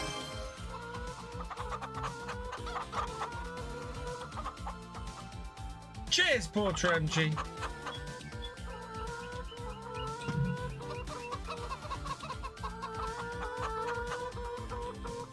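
Chickens clucking in the farming video game Farming Simulator 25, repeated hen clucks and fowl calls over background music, with a sharper burst of squawking midway and someone talking intermittently.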